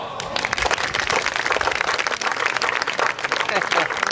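Applause from an audience at a Karosta anniversary event, dense and steady clapping throughout, loud and close, with a voice speaking over it.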